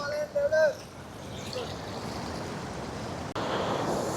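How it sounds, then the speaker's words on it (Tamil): Water rushes hard through the open spillway gate of the Muthaiyankattu reservoir dam in Vanni, a steady, loud roar that continues throughout, with a short burst of voice near the start. "முத்தையன் கட்டுன்ற வான்கதவு திறந்து தண்ணி எவ்வளோ வேகமாக வாரத்தை நான் உங்களுக்கு முன்பக்கம் நின்று காட்டுறேன்"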